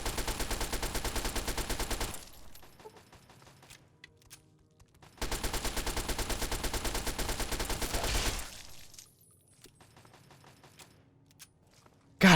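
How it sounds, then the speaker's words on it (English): Sustained automatic gunfire in Fallout 3, two long rattling bursts of rapid shots with a quieter gap of faint clatter between them, loud and close with no talking. "Oh, I'm hearing gunfire"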